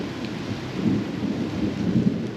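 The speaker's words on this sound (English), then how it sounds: "So for 2 days, it rained, and it was windy." Rain falls steadily with a low rumble of thunder during a windy storm, a continuous dense wash of sound with no voices.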